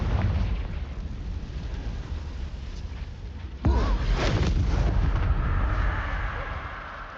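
Confringo fire spell in the game Hogwarts Legacy bursts into a sudden loud explosion partway through, following a rumbling battle din, then a lingering roar of fire and debris.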